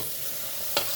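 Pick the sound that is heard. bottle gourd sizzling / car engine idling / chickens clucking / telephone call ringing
bottle gourd sizzling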